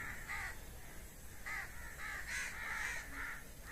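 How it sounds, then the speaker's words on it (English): Several crows caw harshly in repeated bursts, a few close together and loud, others overlapping in an agitated chorus over steady outdoor background noise. "These crows are very angry on me. Whenever I show them my air gun, they all sort of make these sounds"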